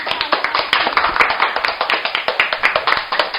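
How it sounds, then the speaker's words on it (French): Rhythmic clapping in time from an audience on a French broadcast program, sharp regular beats at a brisk even pace that continue steadily until an abrupt stop. "On peut l'applaudir."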